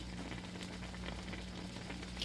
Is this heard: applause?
no